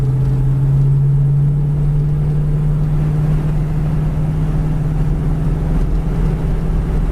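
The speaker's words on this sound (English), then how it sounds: "the car handles the road great" A 1973 Mercury Cougar XR7 cruising on the road on a windy day, a steady low engine and road rumble with a constant droning tone heard from inside the car, loud and unbroken with no talking.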